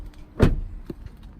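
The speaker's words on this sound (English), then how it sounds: "Get out of the car." A car door on a 2019 Lexus RX300 thuds shut as the driver gets out, a single solid close followed by a couple of faint knocks, near and alone in a quiet multi-storey car park.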